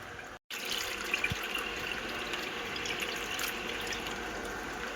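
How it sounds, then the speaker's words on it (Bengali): Hot water pours steadily over a large magur catfish being cleaned, a continuous close splashing and trickling stream with a brief cut near the start. "এই উষ্ণ গরম জল দিলাম ওই মাছের এই লালাগুলো, গরম জল দিয়ে দিয়েছি।"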